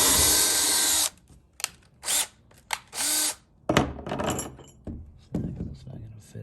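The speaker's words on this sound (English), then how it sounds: "We'll go ahead and pre-drill with the smaller bit first before we go with the half size." Power drill spinning a small bit to pre-drill a hole in a kayak: a long loud whine, then several short bursts separated by pauses, with handling clatter and a voice speaking between bursts.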